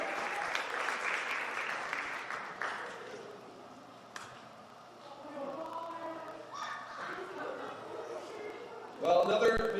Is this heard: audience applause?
yes